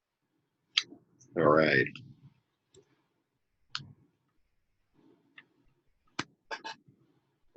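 Tarot cards are shuffled: scattered crisp clicks and short riffling snaps come in bursts, close and fairly quiet, with a brief spoken remark near the start.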